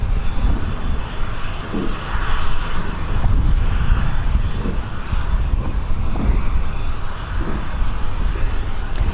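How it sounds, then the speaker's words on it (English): Airliner on a Dublin flight at London City Airport, a loud, continuous roar of aircraft engines that swells and eases slightly over several seconds, close by, with no talk over it. "So this is a Dublin flight that we are currently watching"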